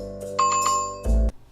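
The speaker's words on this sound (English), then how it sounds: "Hit that notification bell." A bright bell-like notification chime rings out twice in quick succession, loud and clean, followed by a short low thump.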